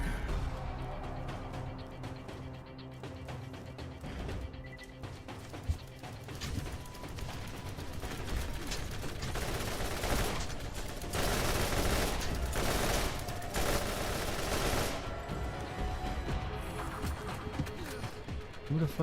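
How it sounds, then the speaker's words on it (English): Rapid bursts of automatic gunfire from the video game Borderlands 1, dense and continuous across the whole stretch with overlapping shots and clattering mechanisms, growing heavier in the middle. "Who the fuck is shooting me?"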